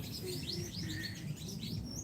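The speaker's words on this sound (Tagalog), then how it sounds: "Daming ibon na mga nag-aawitan." Many birds chirp and sing together in a rural afternoon setting while wood is being split, with dense overlapping calls continuing throughout under a steady background hum.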